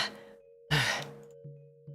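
A voice imitates heavy panting from exertion, coming in a few ragged breaths with a sharp, loud gasping inhale in the middle and softer breaths before and after.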